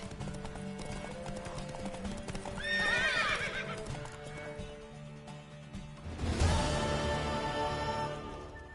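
Clip-clopping horse hooves with a loud whinny rising partway through, then heavier hoof clatter, over a busy soundscape in the video game The Witcher 3: Wild Hunt.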